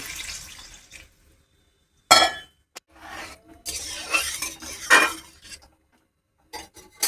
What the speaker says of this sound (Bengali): এবার এর মধ্যে টমেটোটা দিয়ে দিচ্ছি জল দিয়ে দিচ্ছি